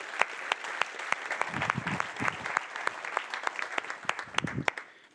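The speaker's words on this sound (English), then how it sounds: "I just want to ask for a big round of applause for Simon, Julian, Greg, and the rest of the" Applause from a conference audience at a SwiftUI developer talk, loose and uneven claps near and far, with a few murmured voices underneath before it tapers off.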